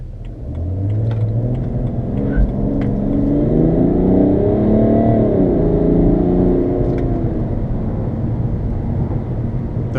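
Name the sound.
BMW 335d diesel accelerating hard, tires slipping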